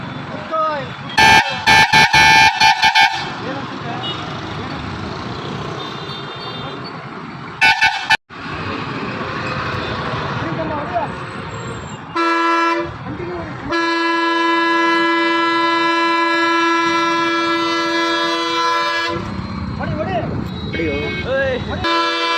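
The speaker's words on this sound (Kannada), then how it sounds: "ಇದೆ ಹಾರ್ನು ಸರ್ ಫುಲ್ ಹೊಡೆದ್ರೆ ಸೌಂಡ್ ಜಾಸ್ತಿ ಬರುತ್ತೆ" A loud vehicle horn blares in several blasts, from short toots to one long sustained honk, with people talking in the gaps between.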